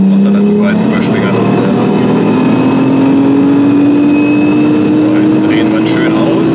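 Audi S4 B5 saloon engine at full throttle on a dyno, loud sustained revving with pitch climbing steadily as revs rise, a constant roar throughout.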